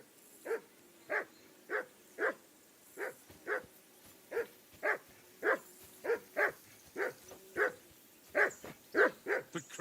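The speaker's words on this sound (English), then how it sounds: "Call off that damn dog before he wolfs down the last of our mates." A dog barking repeatedly near a riverbank campsite, sharp evenly spaced barks coming about once a second, close and clear, speeding into a quicker burst near the end.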